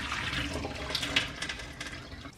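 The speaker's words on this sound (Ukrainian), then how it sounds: "Ми прибираємо всю воду зайву, нам вода не потрібна." Excess water is poured off boiled rice in a steady, splashing stream that runs continuously at moderate volume.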